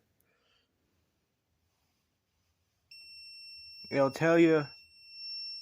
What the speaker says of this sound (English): When you hear beautiful beep, it flashes red, blue, and green.